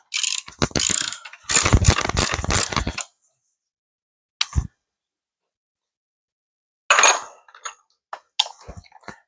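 A hand ratchet turns engine bolts on a squarebody truck engine, giving loud, rapid clicking bursts near the microphone, separated by silent pauses and a few isolated clanks.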